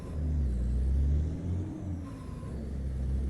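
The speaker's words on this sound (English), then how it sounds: "I actually don't know where Mark got this Volvo sound from" A Volvo truck engine from the Euro Truck Simulator 2 driving game drones with a heavy, steady low rumble, loud and continuous, dipping slightly midway before settling back, with no voices over it.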